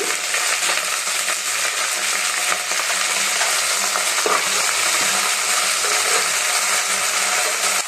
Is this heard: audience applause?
no